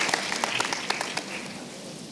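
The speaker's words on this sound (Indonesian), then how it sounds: "Mari Bapak Ibu kita beri tepuk tangan yang meriah pada Pak Bambang." Applause from an audience at a midweek church fellowship gathering, welcoming a guest speaker; steady, moderately soft clapping with scattered sharp claps that fades slightly over about two seconds.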